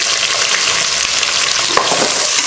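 Onions with cinnamon, cloves, cardamom, star anise, bay leaves and green chillies fry in hot oil for egg biryani, giving a loud, steady, close sizzle with a brief stir midway.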